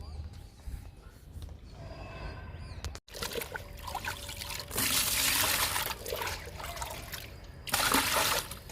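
Liquid fertilizer made from kitchen waste pours into a small bucket in a garden, an uneven close trickle and splash that swells into heavier gushes in two surges.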